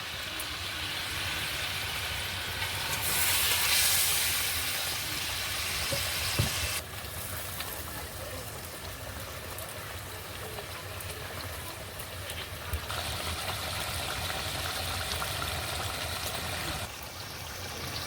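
Spiced water for koi fish curry boils in a pot, a steady, dense bubbling rush that holds evenly throughout, close and moderately loud.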